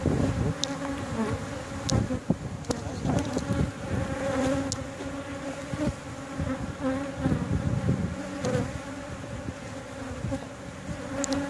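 Honeybees buzz densely around an opened backyard hive and its frames, a constant close drone with individual bees whizzing past.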